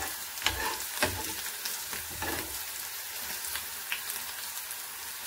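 Green chillies fry in hot oil in a pan for a pickle, crackling steadily while being stirred, with periodic louder sizzling bursts and scraping.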